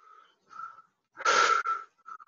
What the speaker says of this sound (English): Deep breathing. I hear it.